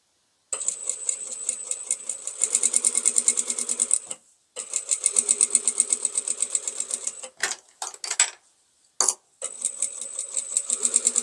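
A sewing machine stitches a jacket with a shirt collar at its longest stitch length, in quick rhythmic bursts, pausing briefly a few times before resuming its rapid mechanical clatter.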